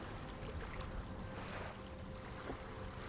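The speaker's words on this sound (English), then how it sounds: "this ocean starts to get more and more rocky" Wind and rolling ocean waves wash steadily around a rocking boat in a storm at sea, a continuous broadband rush that surges slightly midway, with no voices.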